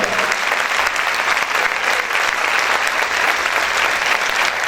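Church congregation keeps up strong, continuous applause, a thick even roar of many hands clapping throughout with no pause.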